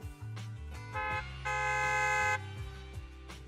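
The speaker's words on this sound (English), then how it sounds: "Loud honk echoes as several trucks with the leaps and bounds logo drive into the open area" Deep, loud truck horn blasts from a video game sound in a few bursts, the last one held longest, over a low rumbling engine.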